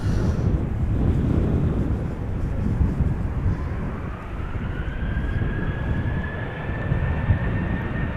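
A KLM airliner takes off from a runway at Amsterdam Schiphol Airport, its engines producing a loud, steady roar with a rising whine, heard amid wind noise from outdoors.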